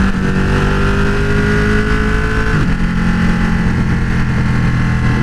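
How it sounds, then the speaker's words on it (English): A 2015 Ducati 1299S motorcycle engine holds a steady high rev, then drops sharply as the quick downshifter kicks in and settles to a lower drone, loud and close. "It's also got a quick downshift."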